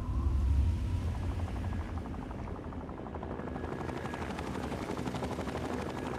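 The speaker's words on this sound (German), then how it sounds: "Ein Heli." A helicopter in the video game Fallout 3 gives off a steady, close rotor chop and engine drone that runs throughout with no talking.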